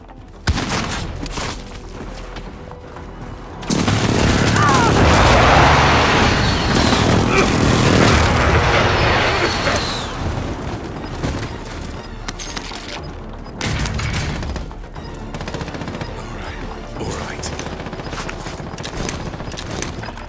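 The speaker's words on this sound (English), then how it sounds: "Enemy precision airstrike. Take cover." Explosions and heavy gunfire from a precision airstrike in Call of Duty: Modern Warfare burst in loud and dense after a quieter start, then ease into a sustained, rumbling battle din.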